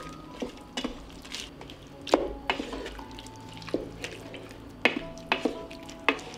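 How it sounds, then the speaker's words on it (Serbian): A spoon stirs vegetables with ground caraway, salt, pepper and crushed hot paprika in a pot, making a series of sharp close clinks and scrapes over a faint background sizzle. "Sve ću ovo promešati."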